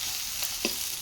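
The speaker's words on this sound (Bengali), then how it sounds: "মশলাগুলো এখন খুব সুন্দরভাবে ভাজা হয়ে গেছে।" Spices fry in a pan with a soft, steady sizzle, quiet and close, with a couple of faint stirring scrapes during one short moment.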